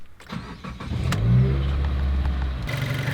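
A Subaru WRX with its check engine light on cranks briefly and catches, then settles into a rough, uneven idle with a misfire. The startup is close and moderately loud, and no one speaks.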